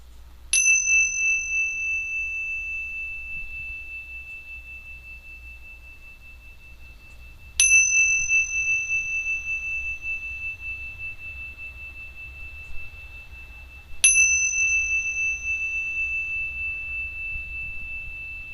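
Three clear meditation bell strikes, evenly spaced several seconds apart, each a bright sustained ring that slowly fades over a quiet room-tone background during a loving-kindness meditation practice.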